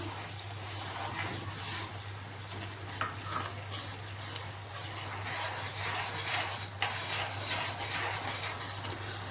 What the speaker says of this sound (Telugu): ఇప్పుడు రవ్వ వేసుకొని కలుపుకుందాం